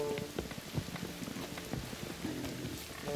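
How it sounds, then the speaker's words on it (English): Heavy rain in The Witcher 3 falls as a dense, steady hiss with scattered drop patters, soft and continuous throughout with no voices. "Raining fucking buckets."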